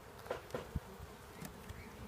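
Honeybees buzz at an open beehive on a farm in Manoa, a soft continuous hum with a few louder close passes of individual bees, faint and near, with no talking.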